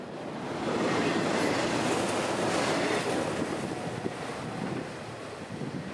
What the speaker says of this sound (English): M543's 3 engines would power the train south